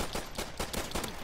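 Rapid bursts of pistol fire in a video game crackle in quick succession, roughly five or six close, sharp shots over a second with no talk.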